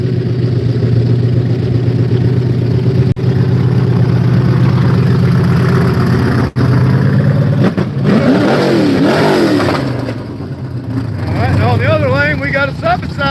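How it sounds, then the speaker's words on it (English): A Polaris side-by-side drones loudly at the start line of a motorsports park race against a Bronco, then revs with rising and falling engine sweeps near the end as people talk over it. "We got a side-by-side Polaris."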